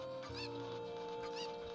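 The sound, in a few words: chicken clucking in Zelda Ocarina of Time video game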